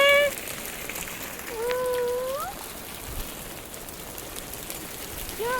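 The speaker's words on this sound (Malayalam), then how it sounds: "ആലിപ്പഴം വീഴുന്നുണ്ട് കേട്ടോ" Hailstones fall with a steady crackling patter, while a brief rising voice-like tone sounds twice over the din.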